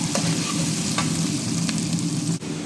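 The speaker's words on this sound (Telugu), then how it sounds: "ఎర్రగడ్డ అల్లం తెల్లగడ్డ పేస్ట్ పచ్చిమిరకాయలు అన్నీ వేసి పచ్చివాసన పోయినాక ముందు వేయించుకుంటున్నా" Onion, ginger garlic paste and green chilies fry in hot oil, a steady close sizzle with a few stirring scrapes against the pan and no voices.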